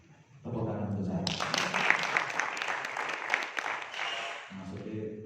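Audience applause breaks out for a speaker at a police-themed Bhayangkara Day talk, a broad wash of clapping building after a brief spoken lead-in and lasting several seconds before fading back to a voice.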